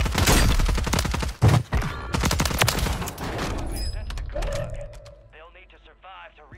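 Gunfire from a Superi 46 SMG in Warzone 3 on Urzikstan, a fast rattling burst up front with a few heavy bangs, then mechanical clicks and quieter game noise as a voice speaks toward the end.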